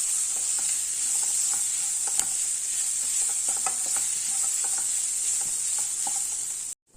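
Capsicum rice masala simmers in a pan with a steady, close hiss of sizzling oil, broken by small scattered clicks and taps of stirring, before cutting off abruptly at the end.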